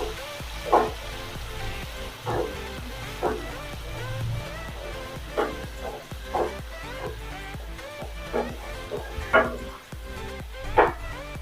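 Spice paste and chopped onion frying in a pan for a Bengali pabda mustard-poppy fish dish, a steady low sizzle with repeated scraping stirs of a spatula at irregular intervals.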